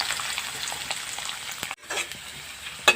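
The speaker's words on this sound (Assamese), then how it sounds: "আৰু প্ৰথমে আলুখিনি ভাজি লওঁ।" Potatoes frying in a pan give a steady, close sizzle that breaks off for a moment, then resumes, ending with a sharp clatter.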